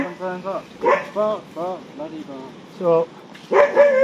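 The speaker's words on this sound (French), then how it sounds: "il y a un vilain chien là-bas qui nous embête" A dog barks on a hillside hiking trail in Koh Samui, giving a series of short, fairly close yapping barks and whiny yips in an irregular rhythm, with a few brief pauses between them.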